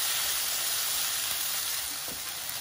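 Mashed potato stuffing frying in a pan for stuffed peppers and bitter gourd, giving a steady, even sizzle that fills the whole clip with no voice over it.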